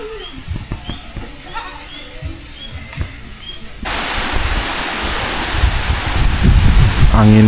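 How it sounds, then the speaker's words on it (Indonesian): Gentle breeze blowing through a hidden village set in the middle of a forest, a soft steady rush that swells louder and broader partway through, with faint birdsong and light ambient sounds underneath. "Anginnya sepoi-sepoi teman-teman."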